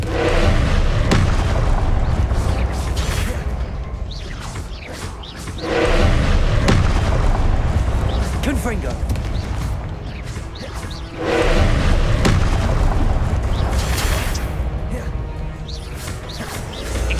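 Repeated booming blasts of the Confringo blasting spell in Hogwarts Legacy, loud heavy explosions rolling in waves every few seconds, with a voice calling out spells between them.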